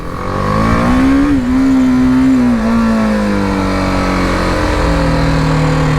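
A 2020 BMW G310GS motorcycle engine droning steadily while riding, loud and close, its pitch rising slightly then gliding down as the revs ease off, with wind noise.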